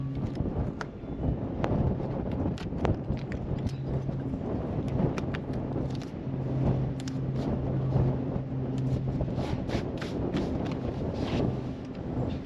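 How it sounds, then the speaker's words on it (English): Strong wind gusts across an outdoor house construction site, buffeting the microphone with a continuous rumbling roar, punctuated by scattered knocks and clatters. "the wind is blowing pretty good"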